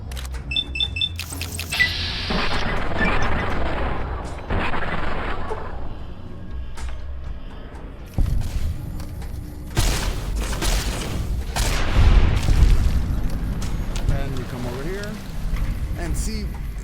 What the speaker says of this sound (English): we'll just shoot him in the leg, essentially